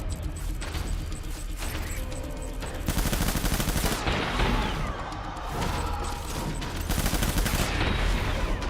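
Sustained bursts of automatic gunfire in the video game Death Stranding, a dense crackling fusillade that runs continuously and loudly, with louder stretches of rapid shots layered over game music and mechanical noise.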